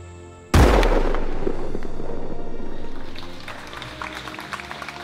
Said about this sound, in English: Cannon speak to celebrate the independence of the United States of America.